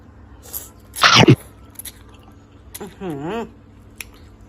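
Someone tasting noodles from a cheap street-food stall, heard as a quick loud slurp followed by soft chewing sounds, close up, with a voice speaking briefly.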